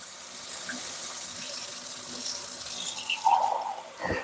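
Water running from a tap into a glass before a protein shake, a soft continuous pouring hiss that rises slightly toward the end as the glass fills, close by and otherwise quiet.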